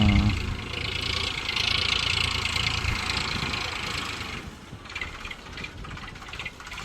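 An Eicher 485 tractor runs steadily while ploughing a field, its engine a continuous, fairly loud rumble that eases slightly near the end, with no clear speech.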